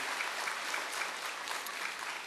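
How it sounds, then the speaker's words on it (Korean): A church congregation applauds together in a sustained, dense round of clapping that stays steady and fairly loud throughout, with no voices standing out. "수고한 분들을 위해서 한번 크게 박수해 주시길 바랍니다."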